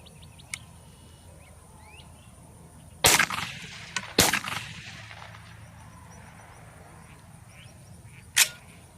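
A Beretta A400 Xtreme Plus 20 gauge shotgun fires two loud, sharp blasts about a second apart at a range, followed several seconds later by another brief impulsive crack over quiet outdoor background.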